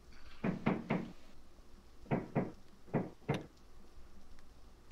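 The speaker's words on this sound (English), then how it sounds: "Is someone knocking on our door, Bug?" Knocking on a door in Garry's Mod, heard as three quick raps, a pause, then two raps and two more, fairly close and clear over faint background noise.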